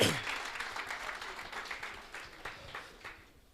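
An audience at a small business workshop gives a round of applause, fairly faint and a bit distant, starting strong and slowly thinning out as the clapping fades.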